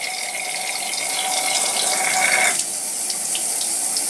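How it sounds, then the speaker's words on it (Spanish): Water rushes steadily through a Venturi effect experiment setup, a continuous close hiss and gurgle with a brief rise in pitch partway through. "vamos a ver que el agua sube por aquí y sale por esta rama de color azul"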